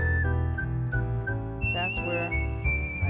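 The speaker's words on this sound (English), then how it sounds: "I don't know why I whistle, but I tend to whistle a lot." Someone whistles a tune in short stepped notes, steady and clear, over a low continuous hum.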